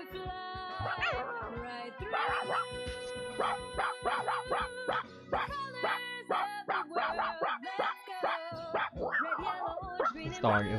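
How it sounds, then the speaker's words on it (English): Dog barking and yipping in the Magic Pengel video game, a busy run of sharp, repeated barks with whimper-like pitch glides playing over game music, loud and close throughout. "This dog is wilding out."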